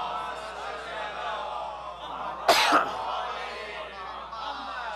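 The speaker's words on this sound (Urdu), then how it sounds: "کھانسی نے میرا برا حال کیا ہوا ہے" A single harsh cough bursts out midway through a Shia religious sermon, loud and close against a steady murmur of hall ambience.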